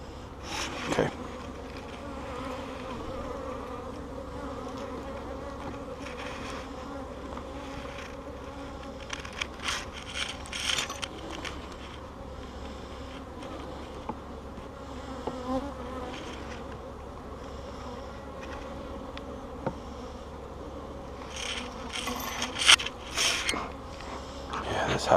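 Honeybees buzz steadily around an open hive with cross comb and burr comb, a busy, active colony droning close and continuous, with occasional louder passes near the microphone and some handling noises.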